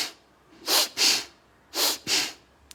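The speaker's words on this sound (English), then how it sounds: "We breathe in through the nose and out the nose." Four audible breaths drawn in and pushed out through the nose, grouped in two close pairs, as a demonstration of connected nasal breathing; no speech.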